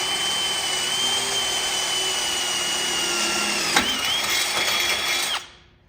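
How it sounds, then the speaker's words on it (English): A power drill bores a hole while mounting an LED light bar on a mower or ATV, a steady loud whine for about five seconds with a brief pitch dip near the end before stopping abruptly. "just drill it as straight as you can"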